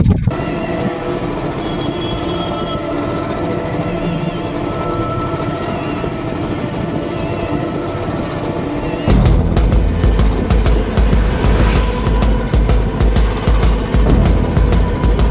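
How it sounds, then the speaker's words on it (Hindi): A motorcycle engine in bad condition, awaiting half-engine repair, runs with a rough, rattling clatter that turns into a louder, harsher, rapidly pulsing knock partway through, heard up close without talk. "कंडीशन बिगड़ी हुई है बाइक की और आवाज़ जिस हिसाब से कर रही है"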